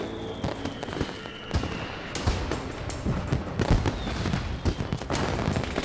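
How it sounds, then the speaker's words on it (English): Fireworks explode in a rapid, uneven barrage of loud cracks and booms, some sharp and close, others rumbling, with a faint whistle trailing through the volley. "Exploding fireworks come close to his threshold of pain."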